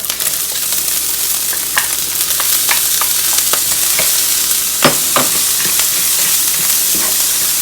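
Frozen vegetables frying in a hot pan with sesame oil, a loud steady sizzle and hiss with scattered pops and crackles, plus occasional scraping stirs, close up and without speech.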